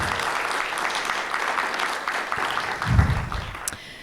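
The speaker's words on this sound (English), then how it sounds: "Let's give them a round of applause" Applause from an event audience honoring donors and advisory council members at a college scholarship celebration, a steady broadband clapping wash lasting several seconds before tapering off.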